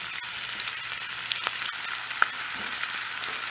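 Chopped red onion with salt frying in a pan for lamb chukka, a steady, close crackling sizzle broken by a few light taps and scrapes of stirring.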